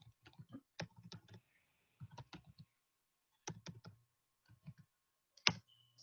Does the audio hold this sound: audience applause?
no